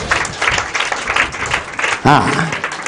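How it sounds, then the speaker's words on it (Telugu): A church congregation claps loudly in praise, a dense, steady wash of applause with a voice breaking in briefly near the end. "గట్టిగా చప్పట్లు కొట్టి దేవుని మహింపరుస్తారు"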